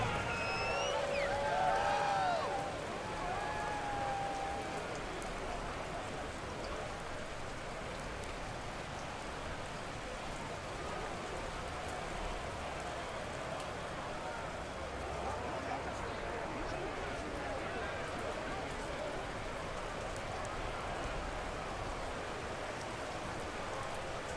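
Steady rain falls over a stadium during a Saints vs Seahawks football game in Madden 22, a constant broadband hiss filling the whole stretch beneath a commentator's voice, with a few faint whistles early on.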